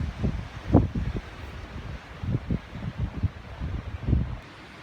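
Gusty wind buffeting a microphone at a campsite on the Appalachian Trail, low rumbling bursts rising and falling in waves, close and fairly loud.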